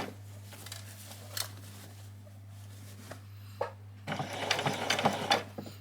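Sewing machine back-stitching a quarter-inch seam around fabric for a doll's spring dress: a steady, close mechanical hum with brief taps, then a louder, busier run of stitching near the end.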